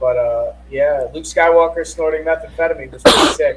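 A single sharp, loud sneeze bursts out near the end, right after a man's spoken remark, standing out clearly above the voice.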